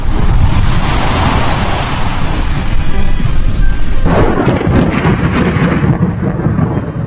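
Lightning over the Taal volcano in the Philippines brings loud, continuous rolling thunder, a dense rumble that carries without a break and with no voices.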